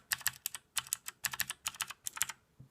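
Fingers type on a HAVIT mechanical gaming keyboard with clicky blue switches, producing crisp, sharp key clicks in quick bursts of several strokes, close and alone.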